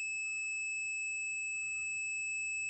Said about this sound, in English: the LED light on and the buzzer sound